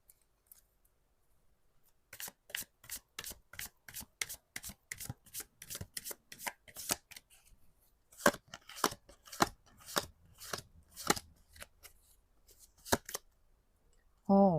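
Tarot cards being shuffled and handled, a long run of crisp, evenly paced card snaps and flicks, close and clear, ending just as a voice begins to speak.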